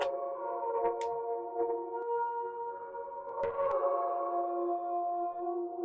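Soft, hazy vocal tones drift and sustain with a wash of reverb, steady and mid-level throughout, with a couple of faint clicks near the end.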